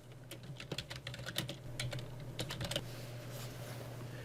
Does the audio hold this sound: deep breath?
no